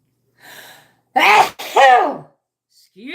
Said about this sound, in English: Oh, I'm going to sneeze.